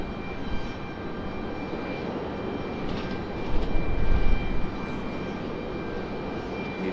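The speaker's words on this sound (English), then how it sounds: "this is the third time a C-17 has touched down here tonight" A Boeing C-17 military transport plane makes a touch-and-go at Raleigh-Durham airport at night, its engines a steady, broad distant roar that swells briefly midway before settling back to a constant rumble.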